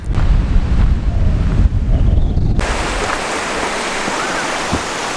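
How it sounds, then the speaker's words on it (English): Steady rushing water of Aber Falls waterfall, a dense broadband roar after a louder wind-buffeted opening, continuous and fairly close with no voices. "Waterfall, fantastic."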